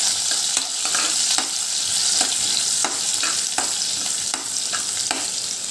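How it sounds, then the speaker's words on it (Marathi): Crushed garlic and ginger fry over medium flame in a pan for green moong dal curry, a steady loud sizzle broken by regular scraping stirs roughly every half second, with no talking. "लसूण आणि अद्रक फ्राय करून घ्यायचं आहे"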